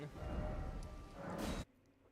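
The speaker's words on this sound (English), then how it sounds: "Oh god, rain again. Why is it always raining?" Steady rain hisses in the Elden Ring video game, a dense wash of falling water that fills the first part before cutting off abruptly to a much quieter background.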